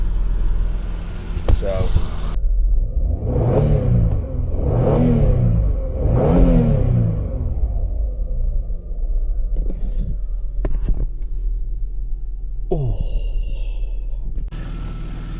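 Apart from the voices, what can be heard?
car engine running after fuel injection upgrade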